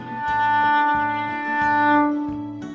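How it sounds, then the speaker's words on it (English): A single bowed string note played with too little bow pressure, held steadily, its tone thin and slightly wavering with a faint scratchy edge, played alone without any talking. "If we don't put enough pressure, it'll make sounds like this."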